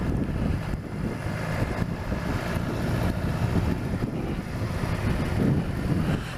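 Strong wind buffets the microphone in continuous rough gusts during a BMW S1000XR motorcycle ride, a dense low roar throughout.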